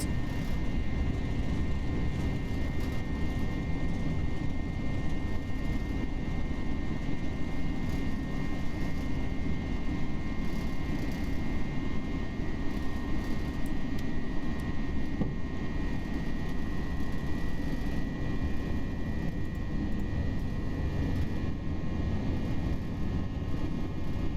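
FSLabs A320 jet engines at takeoff thrust in the Prepar3D flight simulator, a steady loud roar with a sustained high whine holding constant for over twenty seconds, no talk.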